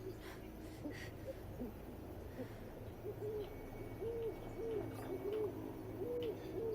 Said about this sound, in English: I hear Owl, but I don't see Owl.